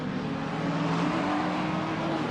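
A BMW GT3 race car pulls away from a McLaren during a 2019 ASRNZ GT3 race, its engine a continuous loud roar holding steady for the whole stretch.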